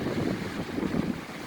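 Strong wind blowing outdoors in the aftermath of a wind storm, a continuous rumbling gusty roar buffeting the microphone, loud and steady with no voices.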